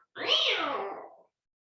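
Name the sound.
voice imitating scared cat meow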